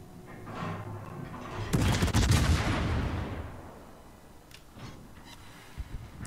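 Heavy naval gun salvos boom out in a warship video game, a loud burst of layered blasts with a long rolling decay, followed by fainter scattered shots further off.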